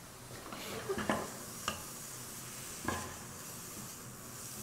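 Pork ribs and onion frying in a pan with butter, a faint, steady sizzle with a few clicks and scrapes of a utensil against the pan, quiet and without talk.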